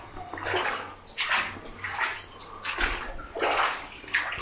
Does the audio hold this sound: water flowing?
yes